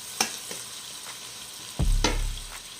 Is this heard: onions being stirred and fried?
yes